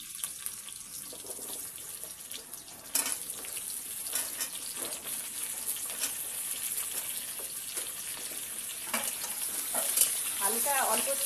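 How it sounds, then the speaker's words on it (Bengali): Potatoes and onions fry together in oil for a crab and cauliflower curry, with a continuous close sizzle, intermittent spatula scrapes and stirring clatter, and the frying growing livelier toward the end. "বন্ধুরা আলুটা একটু ভাজা হয়েছে"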